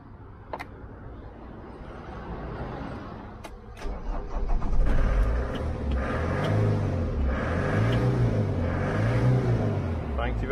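A flat-battery Ford Transit van cranks and catches on a Noco GB500 jump starter, then settles into a steady, close idle with gently rising and falling revs.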